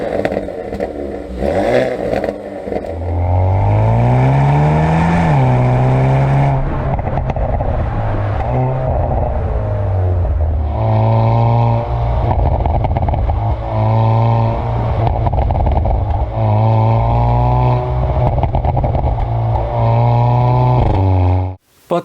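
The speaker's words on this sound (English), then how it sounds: "It has a common 2-liter turbo engine, but coupled with the active exhaust that it comes with," A Hyundai Veloster N's 2-liter turbocharged engine with active exhaust revs loudly up and down through repeated pulls, giving a close, throaty, rising and falling tone with a sharp cut at the end.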